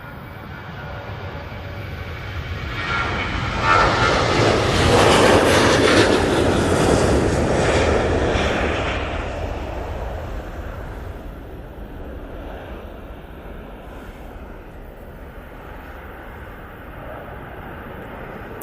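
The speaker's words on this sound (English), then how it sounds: "Off to Corfu with this ET Fairways 737," A Boeing 737 operated by ET Fairways for Jet2 departs Manchester Airport, its broad jet roar swelling to a loud peak as it passes, then fading into a lingering distant rumble with no talk.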